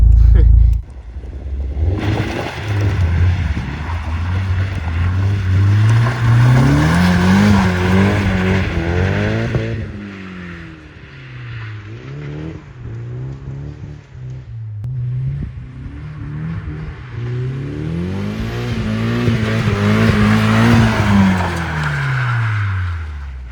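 A car on duct tape tires drifts through linked corners, its engine revving up and down in long rising and falling sweeps with tire squeal and scrubbing, loud and close, while a voice talks at times over the noise.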